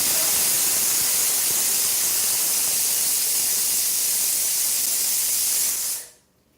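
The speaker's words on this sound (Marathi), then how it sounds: "माझं मुगाचं वरण बनत आहे कुकरला लावलेलं आहे" A loud, continuous hiss of steam jets out of a pressure cooker cooking moong dal for several seconds, then cuts off abruptly into near silence.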